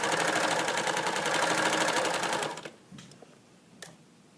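A sewing machine stitches a seam, running fast and steady for a couple of seconds with a rapid, even stitching rhythm, then stops, leaving a few faint clicks.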